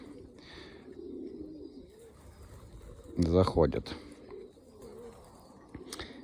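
Pigeons coo in a soft, throaty burst in the middle of a pigeon loft, with a brief spoken word and quiet background noise around it.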